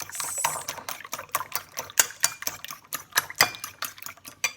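Beaten eggs seasoned with salt and pepper are whisked in a bowl, producing a quick regular rhythm of wet slapping and utensil clicks, close and fairly loud.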